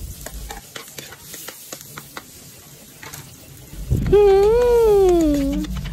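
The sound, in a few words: garlic and onion sautéing in pan for goat caldereta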